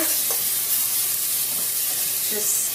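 Vegetables, tomatoes and coconut cream sizzle and fry in a pot with rainbow trout, a steady hiss with occasional soft stirring clatter throughout, close and moderately loud.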